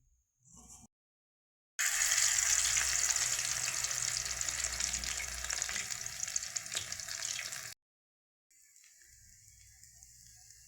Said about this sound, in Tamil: எண்ணெய் காஞ்சி வடை போட்டுக்கிட்டு இருக்கிறோம்